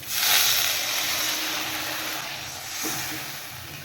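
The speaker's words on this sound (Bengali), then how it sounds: "এবার আমি পরিমাণ মতো জল দিয়ে দেব" Water poured into a hot pan of frying spices sends up a loud, broad steaming hiss that swells at once and then settles into a steady rush, with a slight second surge near the end.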